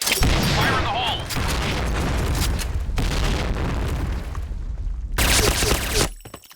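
Grenade blasts in the shooter game Point Blank: loud, heavy booms rumble almost continuously, break off briefly, then one last sharp burst hits before fading out.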